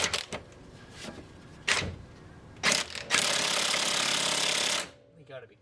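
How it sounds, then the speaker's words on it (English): An impact-style power tool rattles against a tight bolt beneath an RSX Type S during a camber kit install, coming in short bursts and then one long sustained hammering run of a couple of seconds. "I'm going to be using power tool."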